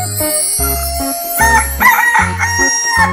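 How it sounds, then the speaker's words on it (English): A rooster crows loudly and close, in a drawn-out cock-a-doodle-doo, over a bouncy children's cartoon tune with a steady bass beat. "Chicken."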